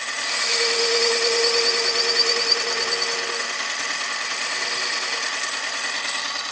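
A lathe machines hubs off a large metal base workpiece, giving a steady, loud cutting whir with a high ringing tone that runs without pause and eases slightly toward the end.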